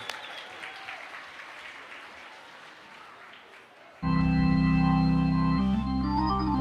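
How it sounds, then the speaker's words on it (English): Applause from an arts awards audience greets a band for about four seconds, fading somewhat, then the band starts playing loud sustained music that takes over. "Give them a big round of applause."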